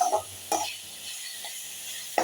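Salted onion and tomato sautéing in a pan, a soft close sizzle punctuated by a few brief scrapes of a spatula stirring, no talk.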